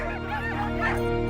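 Inuit sled dogs, once used for hunting and ice fishing, bark and yelp in an overlapping chorus over a steady humming background.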